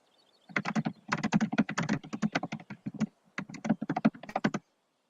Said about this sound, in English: my keyboard is louder than my voice